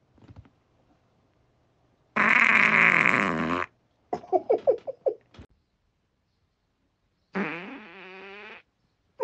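Fart noises follow a chicken fajita meal: a long buzzing blast, then a sputtering run of short pops, and later another rippling, wavering fart. All are loud and close, with near silence between them.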